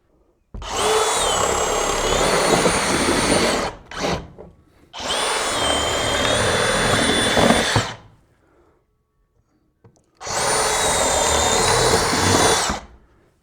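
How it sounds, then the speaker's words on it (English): A power drill bores through wood, run in three long bursts of about three seconds each with brief pauses between, loud and close with a steady whine. "Still drilling."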